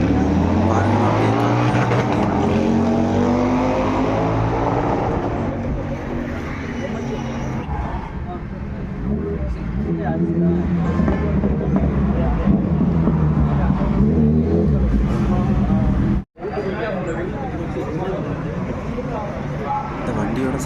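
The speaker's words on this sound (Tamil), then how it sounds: "இந்த வண்டியோட சைலன்சர் வந்து பயங்கரமாக இருக்கும்" An old all-steel Indian motorcycle runs with its engine and exhaust silencer producing a loud, steady, deep rumble, with a voice talking over it and a brief cut in the sound near the end.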